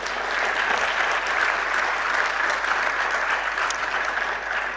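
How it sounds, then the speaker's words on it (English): Steady, dense applause fills a lecture hall as a large audience at a maritime studies annual lecture claps continuously, loud and close for the whole stretch with no talking. "That requires a big round of applause."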